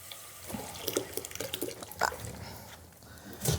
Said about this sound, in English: what I'm going to do now is just add a little bit more water